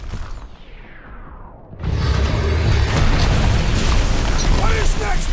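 A big explosion in Guardians of the Galaxy, with a descending whoosh followed by a loud booming blast that rumbles on with crackling debris.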